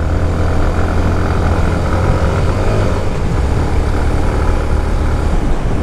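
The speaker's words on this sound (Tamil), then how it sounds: "அந்த ட்வின் ஸ்பாட் எக்ஸாஸ்ட் வந்து கொஞ்சம் சவுண்ட் வந்து டிஃப்ரெண்ட்டாக மாற்றி கொடுக்குது." A Suzuki Intruder 150cc BS6 cruiser with a twin exhaust runs at steady cruising speed in fourth gear, its engine drone loud and continuous with wind rush blended in.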